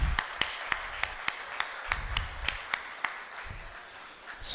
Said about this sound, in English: I'd like a handful of applause for all the committee members who worked so hard to organize this youth convent.